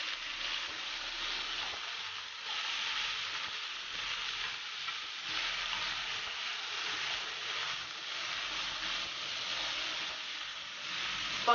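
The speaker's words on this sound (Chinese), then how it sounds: "油热后放入煎的葱蒜爆香， 挑蒸后把虾倒进去" Shrimp tossed into hot oil with fried scallion and garlic, sizzling loudly and continuously for several seconds with a steady, dense crackle and stir-fry hiss, no voices.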